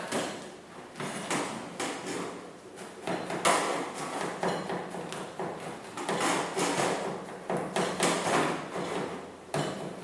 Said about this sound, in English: You can slice this up whatever way you want. You can put it in half, but I'm just going to do it slanted.